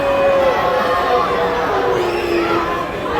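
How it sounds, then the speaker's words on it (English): Dense crowd noise at a live wrestling show inside a gaming convention vendor hall, a steady loud roar of voices and jeering aimed at the heel that runs through the whole stretch without a break. "I'm assuming that's the heel that everyone is booing."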